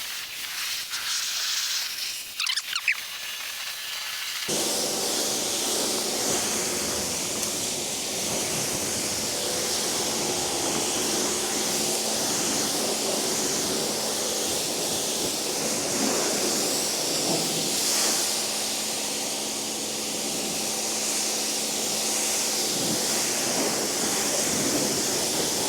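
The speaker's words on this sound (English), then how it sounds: "I did do the front wheel wells with the pressure washer" A pressure washer blasting water into a car's front wheel arches, a loud continuous hiss of spray that starts abruptly after a brief quieter moment and runs steadily to the end.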